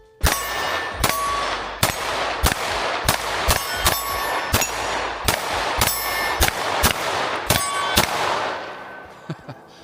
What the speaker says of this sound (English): But let's shoot this GlOCK Gen 5.